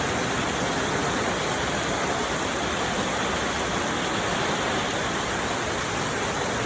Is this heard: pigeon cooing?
no